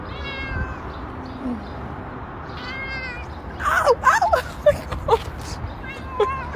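Several cats meow in a row, some drawn-out and whiny, others short and sharp, recorded close and loud, with a person's voice speaking partway through.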